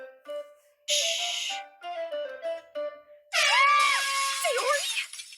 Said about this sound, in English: Wake up Sayori with an air horn.